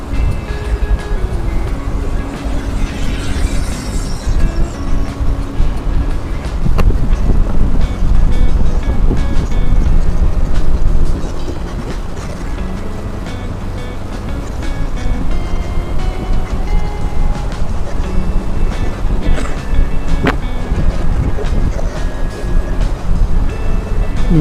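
Heavy wind buffets the microphone during a Honda Vario 160 motorcycle ride along a straight touring road, a loud, steady roar that swells and dips across the whole stretch.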